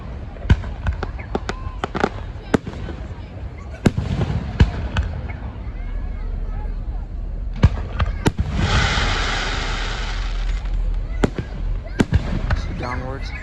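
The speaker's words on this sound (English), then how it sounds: "Do you want to see the Juneteenth fireworks" Juneteenth fireworks go off outdoors, a string of sharp cracking bangs at irregular intervals, some near and some farther, with a sizzling crackle swelling midway. A voice speaks at times between the bursts.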